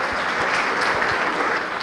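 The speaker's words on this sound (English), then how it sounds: "I'd like you all to welcome Mr. Bharat with a big round of applause" An audience applauding to welcome a speaker, a dense, even wash of many hands clapping that holds steady and fairly loud from start to finish.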